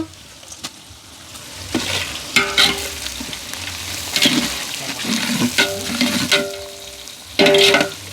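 Green chillies, split in two, drop into hot oil in a pan while mutton biryani is being made, giving a steady crackling sizzle with sharper spitting bursts and light stirring clatter, close and fairly loud with no talk.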